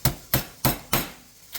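Chicken fillets pounded flat for schnitzel, four heavy thuds spaced about a third of a second apart, close and loud with no voices.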